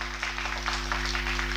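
An audience at a film festival gives warm applause for police officer Arun Botra, a steady patter of many hands clapping in a hall, fairly soft and unbroken.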